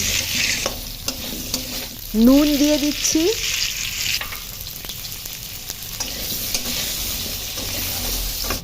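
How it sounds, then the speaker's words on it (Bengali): Cut potatoes sizzle in leftover oil in a wok while being stirred, a steady close frying hiss with scraping strokes; a person speaks briefly partway through. "অবশিষ্ট তেলে কেটে রাখা আলুটা দিয়ে দিলাম"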